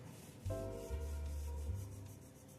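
A yellow oil pastel is rubbed across paper while colouring a penguin drawing. The scratchy strokes are quiet and continuous beneath a low steady hum, with no speech.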